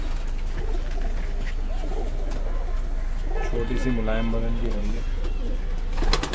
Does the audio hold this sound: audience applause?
no